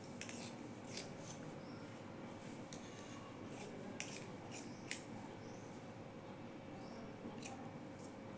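Scissors snip through blouse fabric in a quiet room, a series of short, crisp cuts spaced irregularly over a faint steady background hum, close and soft with no talking.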